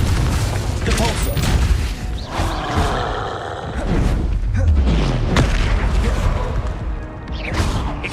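Spell blasts from Incendio, Confringo and Depulso in Hogwarts Legacy, loud booming crashes and fiery bursts firing one after another throughout, while a voice calls out spell names over the din.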